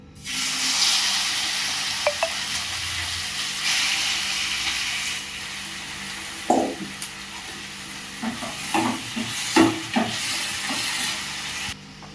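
Small cut mutton pieces dropped into a hot pan on high heat sizzle loudly, a steady hiss broken by sharp crackles and stirring scrapes.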